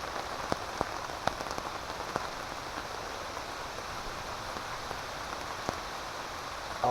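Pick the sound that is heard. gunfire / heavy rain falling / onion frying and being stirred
heavy rain falling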